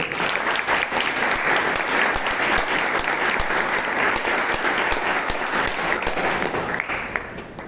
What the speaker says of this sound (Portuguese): eu peço uma salva de palmas para ele, por favor.